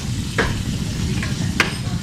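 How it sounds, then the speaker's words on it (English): Apples cooking in a pot for applesauce, a steady soft bubbling simmer close by, broken by a few brief clinks of a spoon stirring. "We're cooking apples to make them soft enough."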